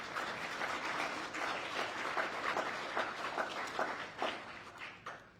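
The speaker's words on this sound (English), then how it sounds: "Now, I do want to ask everybody just give a round of applause to the recipients." Round of applause from an audience at a scholarship presentation ceremony, steady dense clapping from many people that fades toward the end.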